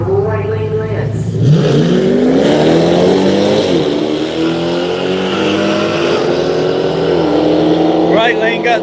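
A Hemi drag race car engine at Orlando Speed World roars loud and close as the driver pats the throttle, the pitch rising and dipping in uneven surges, with a voice talking over it.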